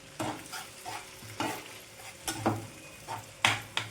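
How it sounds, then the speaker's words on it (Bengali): Browned onion with ginger-garlic paste, chopped chilli and tomato sizzles in a pan for chicken butter pulao, while a spoon scrapes through it in repeated close strokes roughly every half second over a steady frying hiss. "এই যে পেঁয়াজটা লাল লাল করে ভেজে নিতে হবে এই যে ব্রাউন কালার চলে এসেছে"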